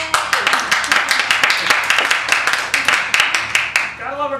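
Audience at a Toastmasters meeting claps in a brisk burst of applause, many hands close by, fading out near the end as a voice begins.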